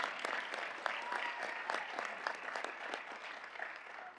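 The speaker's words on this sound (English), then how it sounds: "We can clap for that." Steady crowd clapping at a school board Teacher of the Year celebration, fairly soft and distant, a continuous patter of many hands sustained throughout with no voices.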